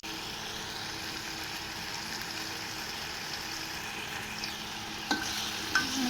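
Chicken and onion fry in a pan for chicken pulao, giving a quiet, steady sizzle, with a couple of brief scraping stirs near the end.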